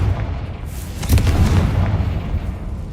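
A fiery Confringo blast spell in a Harry Potter wizarding video game: a single low, rumbling boom erupts about a second in and rolls off slowly over a steady background murmur.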